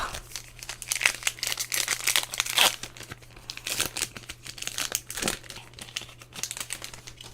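A Magic: The Gathering Innistrad booster pack wrapper is torn open, giving close, irregular bursts of crinkling and tearing foil over a faint steady hum.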